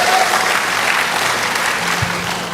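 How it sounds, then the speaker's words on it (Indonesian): Congregation applauding during a church sermon on the season of joyful harvest, a dense steady wash of many hands clapping that fills the room, loud and continuous with a faint hum underneath. "Berikan tepuk tangan lebih meriah lagi"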